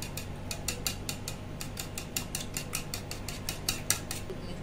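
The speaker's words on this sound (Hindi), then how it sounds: "उसके बाद इसको अच्छे से फेंट लेंगे।" Eggs being whisked in a bowl with chilli flakes and salt: a quiet, steady run of quick metallic taps in bursts, with no talking.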